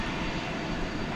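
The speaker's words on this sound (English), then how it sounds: "the almost new 757 is now on the move over to 18" A nearly new Boeing 757 jet taxis toward runway 18 left for takeoff, its engines giving a steady, broad roar that fills the whole moment without a break.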